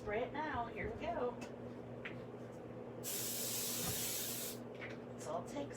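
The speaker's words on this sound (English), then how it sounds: "Okay, we're gonna spray it now." Honey Hold hairspray sprayed onto a pan pastel card indoors: one steady aerosol hiss of about a second and a half, close and fairly loud, between quiet talk before and after.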